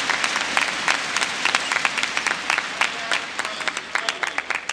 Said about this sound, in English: enjoy as the crowd give one last appreciative clap before the action begins